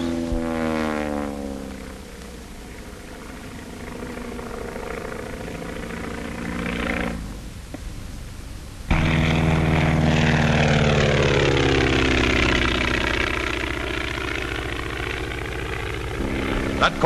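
Propeller airplane engine of a 1935 skywriting plane flying loops and Immelman turns, a loud drone whose pitch rises and falls with the manoeuvres, dipping briefly midway before surging back, with someone talking over it.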